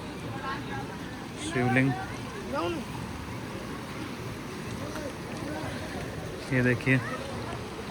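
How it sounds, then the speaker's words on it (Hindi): A fast-flowing, flooded Ganges River in Rishikesh rushes in a steady, broad wash of water noise, heard under someone speaking. "गंगा का प्रवाह कितना तेज़ हो चुका है"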